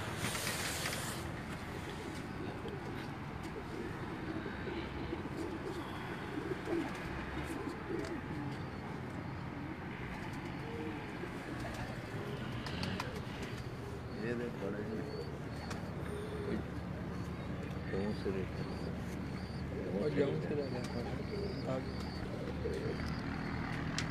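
White gold pigeons at a breeder's home loft in Gujrat cooing steadily throughout, with people talking over the birds and background noise.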